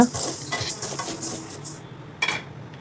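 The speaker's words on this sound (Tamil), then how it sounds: "அடுத்தது கேழ்வரகையும் இதே மாதிரி நம்ம வறுத்து எடுத்துக்கலாம்." Finger millet (ragi) is dry-roasted and stirred in a pan, with a series of soft scraping and rustling strokes, faint and close, tapering off partway through with a last brief scrape.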